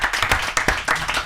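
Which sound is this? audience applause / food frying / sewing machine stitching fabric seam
audience applause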